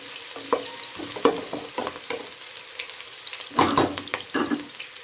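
Onions frying in a pan as the first step of a beef pulao with simple spices, a steady close sizzle broken by scraping stirs and louder bursts as the pieces are turned.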